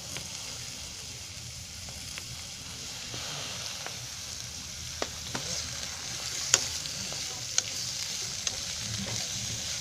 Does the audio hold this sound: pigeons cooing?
no